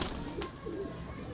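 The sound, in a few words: pigeon cooing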